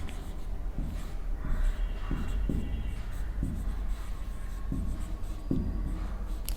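Pen or marker scratching out figures by hand during a fifth-grade arithmetic lesson, a steady run of soft strokes and taps over a low room hum, with no talking.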